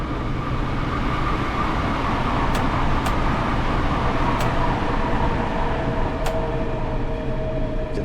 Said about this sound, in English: Still hear the trains on the neighboring tracks.